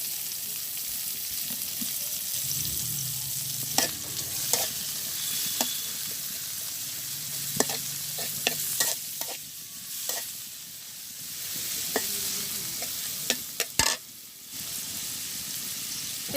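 Onion frying in oil in a pan beside greens during village cooking, a steady moderate sizzle with intermittent spoon scrapes and knocks against the pan as it is stirred, and no voices.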